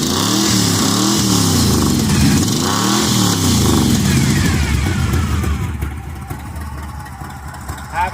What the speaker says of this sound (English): Kind of hear the whine from the timing gears.